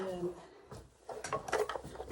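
A drawer of black, white and grey sewing threads is pulled open, giving a short run of rattling, clattering knocks close by, with quiet talking in the background.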